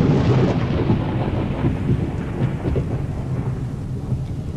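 A thunderstorm with heavy rain at sea, used as a story sound effect, gives a deep continuous rumble of thunder over a steady hiss of rain, loud and close, gradually easing slightly.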